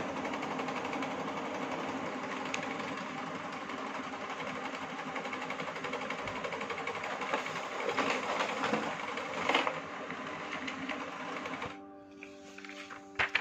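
A Brother laser printer fitted with a new DR-B021 drum unit whirs and rattles steadily as it feeds a page, then the mechanism winds down near the end.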